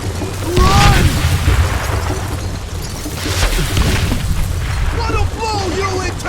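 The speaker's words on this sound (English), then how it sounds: "Who said you can throw dynamite?" Dynamite explodes in the Western shooter game Call of Juarez Gunslinger: two heavy, rumbling booms about three seconds apart, with a busy layer of game noise and sharp crackles between and after them.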